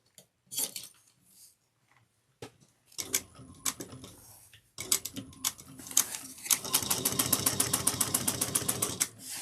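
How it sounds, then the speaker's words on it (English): A sewing machine topstitches a tote bag seam with an eighth-inch seam allowance. A few short bursts and handling clicks come first, then a fast, even mechanical rattle of stitching builds and runs steadily, close and clear. "you're going to sew that up, top stitch it with the 1/8 of an inch seam allowance"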